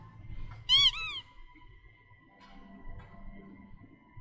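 A rubber duck squeaks once in a horror video game, a sharp, bright, close double squeak set over a quiet hum and low rumble, then faint soft ticks afterward.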